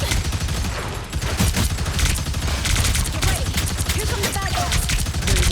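Loud, dense gunfire from the Punisher character in Marvel Rivals hammers away in rapid continuous bursts amid layered game effects, sustained throughout with no pause.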